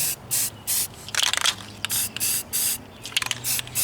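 Rust-Oleum spray paint can hissing onto a 20mm ammo can for a custom camo finish, a series of short bursts, close and crisp, then a quick rapid run of tiny puffs before more steady sprays.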